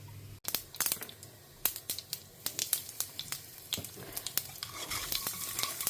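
Curry leaves and spice mix fry in a pan for Karnataka Brahmin-style bisibele bath, a close, crackling sizzle full of rapid irregular pops and spits, getting busier toward the end.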